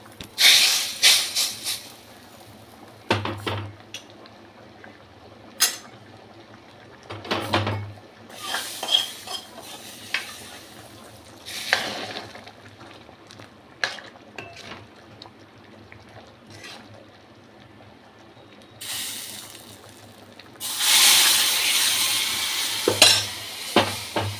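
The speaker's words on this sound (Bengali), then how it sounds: "এখন আমি এর ভেতরে ওই ফোড়নটা ঘি মশলা ফোড়নটা ঢেলে দেবো" Ghee and spice tempering poured into boiling chana dal, bursts of loud sizzling and hissing between clanks of a pot and a stirring spoon, with no talk.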